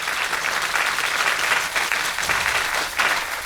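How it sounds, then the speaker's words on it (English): An audience claps together at a conference opening session. The applause is dense, loud and sustained for the whole stretch, with no talk over it. "So let's clap for that."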